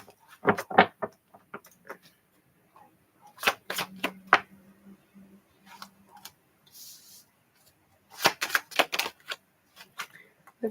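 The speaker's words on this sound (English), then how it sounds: "Last shuffle." Several quick bursts of playing cards being riffled and bridged, each a crisp fluttering rush, with pauses and light handling noises between them.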